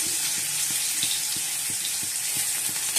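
Pieces of pointed gourd (potol) fry in hot oil with a steady, fairly quiet sizzle and crackle that holds evenly throughout. A faint regular ticking runs underneath.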